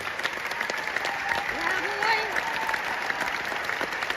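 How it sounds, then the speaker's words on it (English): Audience clapping as performers take a bow at a live event: steady, broad applause from a crowd, mid-distance, with a faint voice or vocal sound briefly rising over it partway through. "Doing a clapping."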